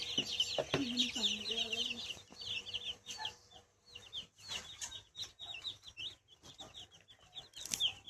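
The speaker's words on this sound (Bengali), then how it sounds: "এইবার মুরগির ফার্ম হবে, এইবার মুরগি হবে বড়।" Chickens cluck and chirp on a poultry farm in a busy series of short calls, with a few louder calls near the start. The birds sound close and fairly loud over a low background hum.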